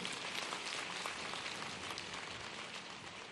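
Steady, dense applause from a crowd gathered for a meeting between a chief minister and street vendors, fairly quiet and continuous throughout with no voices on top.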